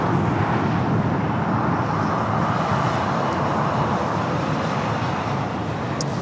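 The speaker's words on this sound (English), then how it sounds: "That is American Flight 12 taking off to Boston on the A321." An American Airlines A321 takes off at LAX, bound for Boston, with a loud, sustained jet roar that stays broad and steady throughout, heard from the ground with no talking.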